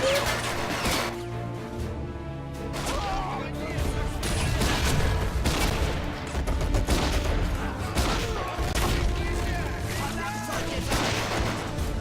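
Continuous battlefield gunfire from the World War II strategy game Men of War: dense volleys of rifle and machine-gun shots with explosions, loud and unbroken throughout, layered with shouted voices.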